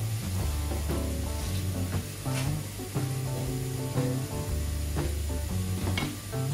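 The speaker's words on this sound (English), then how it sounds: "And you're gonna stir that around, let it shimmer for a while." Spices sizzling in a pan while being stirred, a continuous hiss under a steady tonal background with repeated light scraping knocks from the stirring, no talk.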